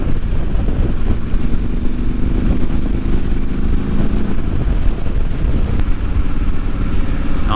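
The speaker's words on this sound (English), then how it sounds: "Honestly, there's nothing quite like riding a bike." Motorcycle cruising at around 80 miles an hour: a steady, loud engine drone mixed with heavy wind rush against the microphone, continuous throughout with no talking.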